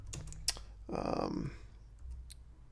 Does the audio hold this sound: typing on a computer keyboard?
yes